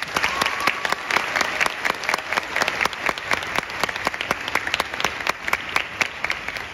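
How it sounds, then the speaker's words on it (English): An audience at an honor band festival applauds in a hall, a sustained wash of many hands clapping at even strength for several seconds. "And we can give them a round of applause."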